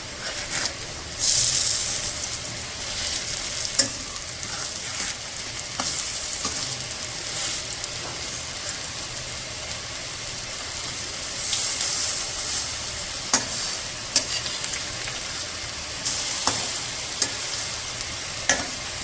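Pumpkin-leaf and lentil fritters frying in oil in a pan in a village kitchen: a constant sizzle with occasional surges as batter is added, and scattered clicks of a utensil turning them.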